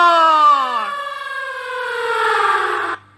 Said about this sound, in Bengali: খবরদার ব্লাস্টিং হচ্ছে, খবরদার সাইরেন বাজছে